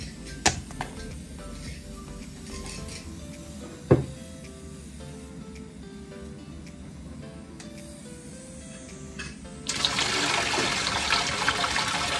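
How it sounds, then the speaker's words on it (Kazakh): Apple compote liquid poured back from jars through a mesh lid, a light trickle with a couple of knocks, then a louder steady gush of pouring near the end. "Екінші рет қайтарып құйдық осылай."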